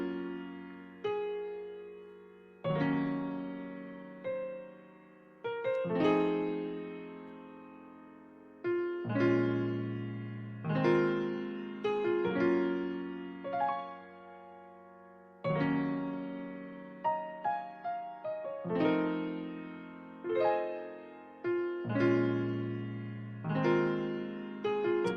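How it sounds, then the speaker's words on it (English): A vintage Maverick contact piano plays slow sustained chords, each struck cleanly and left to ring and decay, close and soft, with a bright, slightly reverberant tone. "we started with this contact piano called the Maverick"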